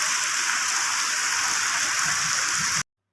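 Heavy rain pouring down in a dense, steady hiss that cuts off abruptly near the end.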